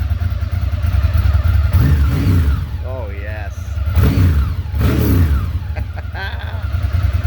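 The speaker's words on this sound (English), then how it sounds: "Deep bellowing Ducati L-twin 992cc" A 2005 Ducati ST3 sport-touring motorcycle's 992cc L-twin engine revs in deep, bellowing bursts close by, rising and falling several times, with someone speaking briefly over it.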